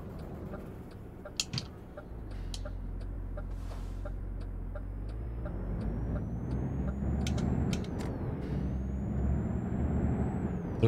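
A truck in Euro Truck Simulator with Promods releases a hiss of air brakes, then its engine rumbles and rises in pitch as it pulls away. Short clicks and faint, distant tones are also heard.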